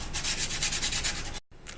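Steady rhythmic sanding strokes rub against a plastic pump tube, then stop abruptly before a brief resumption.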